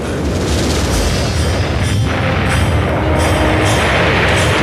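Light gas gun driving an 11-pound rocket with compressed hydrogen, a sustained loud roaring blast with a dense low rumble that continues steadily throughout, no talking.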